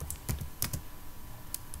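Typing on a computer keyboard while entering a selection name in PyMOL molecular visualization software: a few quick, close keystroke clicks in short bursts, then quiet.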